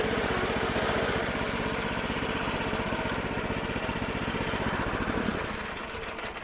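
A Forte petrol articulated mini tractor engine runs steadily nearby with a buzzing, rapid putter, its tone holding even before easing slightly at the end.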